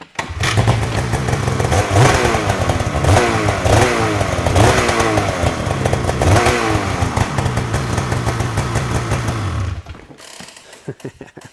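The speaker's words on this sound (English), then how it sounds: "when you fire up a snowmobile like this and you back it off a sled deck" A modified Ski-Doo 9R snowmobile engine with a titanium exhaust runs loud and close, revving and crackling in repeated rising bursts for about ten seconds before cutting off into quieter clicking.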